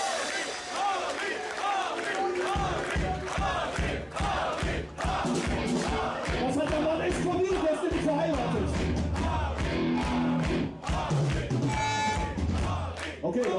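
Concert crowd at a metal band's show cheers and shouts loudly for a stand-in keyboard player, with whoops and bellows swelling over a low droning background.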